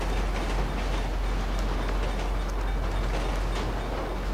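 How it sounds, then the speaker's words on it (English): A train rolls through in the open-world game GTA V in mountain terrain, a loud, continuous rushing rumble of rail noise that holds steady throughout with no talking. "Well, I just got hit by a train and survived."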